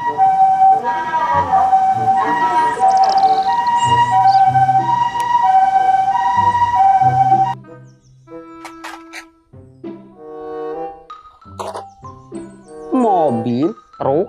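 A toy ambulance sounds a looping electronic siren with bright, tinny wailing tones and chimes for several seconds. It then cuts out, leaving scattered toy clicks and bits of voice.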